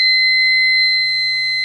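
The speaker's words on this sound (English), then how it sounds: "Just the alarm on the machine." A coin laundry machine's alarm sounds as a loud, steady high-pitched electronic tone held continuously, with a low hum underneath.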